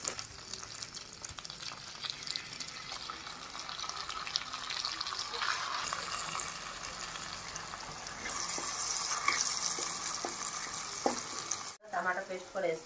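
Coarsely pounded onion paste fries in a pan for a fish curry with roasted tomato, a steady loud sizzle running throughout, with scrapes of stirring, brief louder bursts near the end and a short dropout before it resumes.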